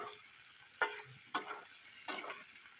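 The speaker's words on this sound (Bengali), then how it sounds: "দিয়ে ভেন্ডি আর আলুর সাথে কিন্তু ভালো করে কষাতে হবে।" Fried okra and potatoes stirred in a pan: a quiet background sizzle broken by three sharp scraping knocks of the spatula spaced under a second apart, with no voices.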